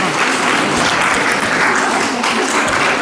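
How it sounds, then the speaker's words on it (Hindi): An audience at a Netaji Subhash Chandra Bose Jayanti ceremony gives loud, sustained applause for a team receiving a trophy, with many hands clapping in a dense, even wash. "आप ज़ोरदार तालियों से इनको सम्मानित करें"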